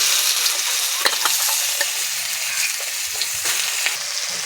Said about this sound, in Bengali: ভিজিয়ে রাখা সয়াবিনগুলোকে দু তিনবার ধুয়ে নিয়েছি জল নিংড়ে নিয়েছি কড়াইতে দিয়ে দিচ্ছি